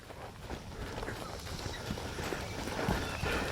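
Mustang mare's hooves thudding and shuffling on the ground during ground driving, steady and moderately close under a broad outdoor rumble.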